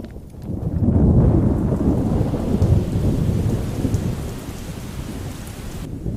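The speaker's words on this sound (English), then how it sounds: "It's never going to stop raining, is it?" Steady heavy rain pours down with a rolling rumble of thunder, loud and continuous for several seconds after a quieter start, with no voices.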